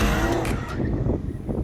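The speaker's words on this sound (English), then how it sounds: "we do need to warm up the tyres, which means skids!" A Mercedes SLR McLaren and an Aston Martin DBS, both rear-wheel drive, skid to warm their tyres with a loud, close engine roar and a brief hissing screech of rubber over a short burst.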